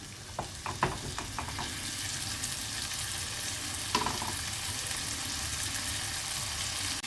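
Mixed vegetables for paneer fried rice sizzle steadily in a pan, a dense continuous frying hiss with a few sharp spatula scrapes and clinks near the start, close by and moderately quiet.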